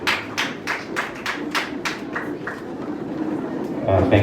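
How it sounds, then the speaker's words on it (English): An audience at a South Sudan Independence Day celebration at a secondary school claps in a steady rhythm of distinct slaps that fades after about two seconds, with voices and crowd noise beneath. "Let's clap for her."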